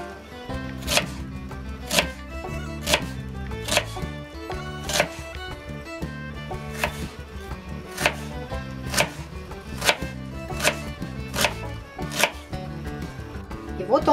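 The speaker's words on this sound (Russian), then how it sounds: "Берем луковицу и мелко-мелко режем." A medium onion is finely chopped with a knife on a board: crisp, evenly spaced blade strikes repeat in a steady rhythm, close and fairly loud, with no talking.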